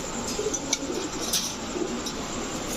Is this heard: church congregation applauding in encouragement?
no